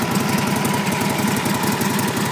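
A 1947 Harley-Davidson FL Knucklehead motorcycle engine, restored and mostly original, runs close by with a steady, rapid, lumpy thumping pulse and a mechanical clatter, loud and alone.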